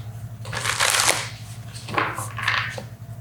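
Animal oracle cards are shuffled up close in two quick riffling bursts, a crisp papery flutter over a low steady hum, with no talk.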